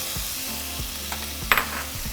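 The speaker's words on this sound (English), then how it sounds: "now we're just going to saute for 3 minutes" Green chiles, Roma tomato and white onion sautéing in melted butter, a soft steady sizzle with a few light stirring knocks and one sharper spatter.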